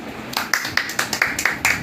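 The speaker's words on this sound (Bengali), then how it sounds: "সবাই একটা তালি হবে" An audience at a Lalon song performance claps in a steady, even rhythm, about eight sharp claps in a little under two seconds, fairly close and bright, over faint background murmur.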